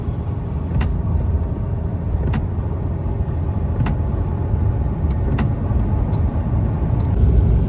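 Car cabin while driving at about 50 km/h on a congested single-lane highway through a winter storm, steady loud road and rain rumble with faint regular ticks recurring about every second and a half.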